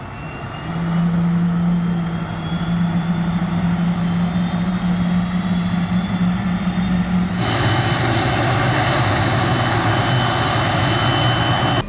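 An MD helicopter runs close by, its turbine engine droning loud and steady with a sustained whine, and the pitch and intensity step up partway through as the engine spools higher.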